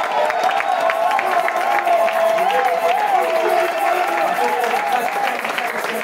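A worship congregation cheers and acclaims together, a loud, sustained crowd roar with mingled voices and some clapping, steady across the whole span.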